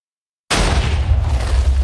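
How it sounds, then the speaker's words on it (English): A TNT blast in Minecraft bursts in abruptly after half a second of silence, then a loud, sustained rumbling roar with deep low-end boom fills the rest of the clip. "There's an explosion like right here."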